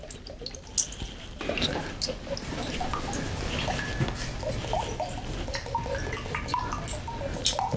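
Coconut water poured from a hole in a fresh coconut, a steady trickling and dripping stream of liquid that runs continuously, close and moderately loud, with no talking.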